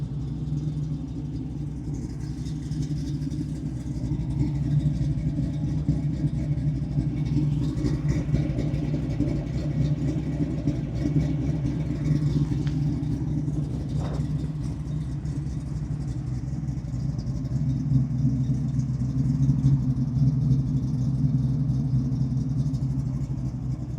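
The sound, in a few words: LS3 V8 Camaro exhaust rumble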